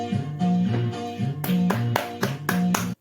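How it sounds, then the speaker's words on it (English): Crisp rhythmic handclaps ring out in the intro of a song played from a vinyl record, several evenly spaced claps landing over a bright tonal backing before the sound cuts off abruptly. "Second thing after that is the claps and the intro"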